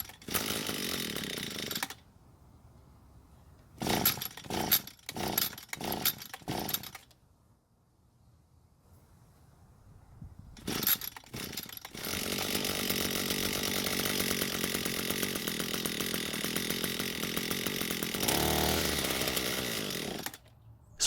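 An Echo SRM 230 string trimmer with a faulty ignition coil sputters in short bursts, cuts out, then restarts into a sustained buzzing whine that runs steadily to the end, close and alone.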